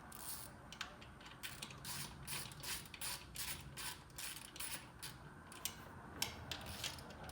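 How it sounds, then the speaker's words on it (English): Ratchet wrench with a 10mm socket tightening throttle body bolts on a Lexus GX470, a quick series of close, crisp pawl clicks in uneven bursts with brief pauses between strokes. "To tighten these bolts back on, we're going to use a 10mm bolt."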